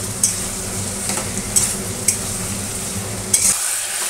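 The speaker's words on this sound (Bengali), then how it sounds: "দেখো পেঁয়াজগুলো কিন্তু আমার ব্রাউন করে ভাজা হয়ে গেছে, আর একটু দিয়ে দিচ্ছি, এগুলিও ভাজা ভাজা করে নেব।" Onions and chili chicken pieces fry in a pan, giving a steady sizzle broken by several sharp clinks and scrapes from the stirring spoon against the metal.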